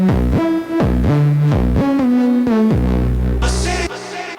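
Melodic techno synth lead with a static filter cutoff, playing a run of sustained, evenly bright notes with short gaps, loud and alone, ending in a brief noisy wash.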